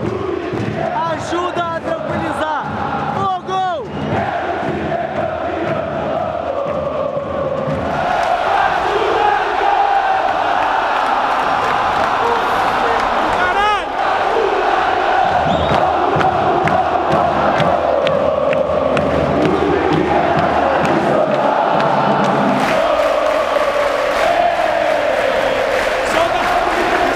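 A dense stadium crowd chants and roars at the Campeonato Carioca football final, loud and continuous for the whole stretch, with rhythmic massed voices standing out near the start.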